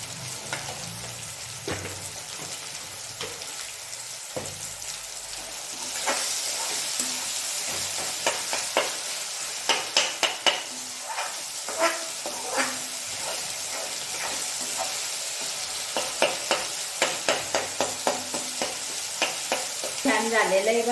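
Tomatoes with salt frying in a pan for a cauliflower dish, a constant hissing sizzle that grows louder partway through, with repeated spatula taps and scrapes, close up and without talk.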